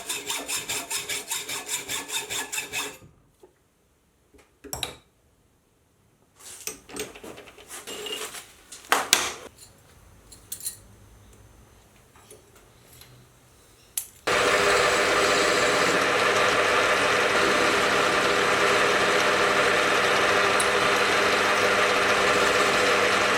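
Metal lathe parting off a part while rebuilding a cross slide leadscrew nut, starting with a steady rasping cut, then scattered clunks and scrapes, and finally a loud continuous whirring grind that carries through to the end.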